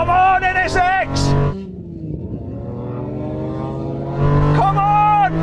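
A Honda NSX race car engine roars in a racing video game with Japanese GT cars, loud revving and shifting pitch that sweeps up and down, with an excited voice talking over the first and last moments.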